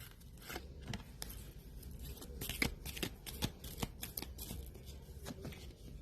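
Cards from an Om oracle deck being shuffled and drawn by hand, with quick crisp riffles and sharp snapping flicks in irregular bursts, close up and fairly quiet, with no talking.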